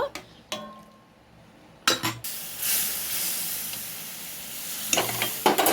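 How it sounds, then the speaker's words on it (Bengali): A pot of lentil dal with fried additions stirred and heating, with a soft steady sizzle and a few sharp scraping clinks of a spoon against the pot, no talking. "এবারে ডালটাকে আমি একটু ফুটিয়ে নেব"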